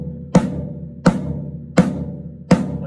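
Floor tom deadened by a towel draped over its head, struck four times at an even, slow pace; each hit is a short, dull thud that dies away quickly, heard up close with no talking.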